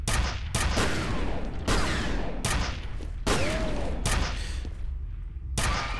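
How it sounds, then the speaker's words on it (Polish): Shotgun blasts ring out in the shooter game F.E.A.R.: about seven loud, separate booming shots spaced roughly a second apart, each with a short echoing tail. "Chyba ze strzelby strzela."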